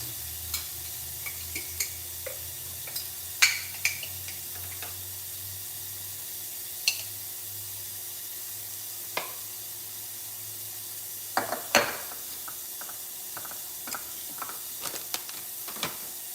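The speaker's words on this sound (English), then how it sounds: "And while that's cooking, I'm gonna saute that." Food sautéing in a pan, with hemp seed going in, gives a steady soft sizzle broken by scattered clicks and scrapes of stirring. The sound is quiet and unbroken, and no one talks over it.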